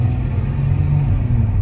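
Car engine accelerating, a steady loud low rumble with a faintly rising tone, close and alone without talk.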